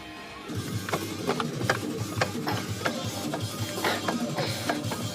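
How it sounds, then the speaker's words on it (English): Bolts coming off the rear axle of a 1995–2005 Chevrolet Blazer S10 with a 7.5/8.5 rear end: repeated sharp metallic clicks and ratcheting scrapes close by, over a steady workshop hum, with no talking. "But let me get these last bolts off."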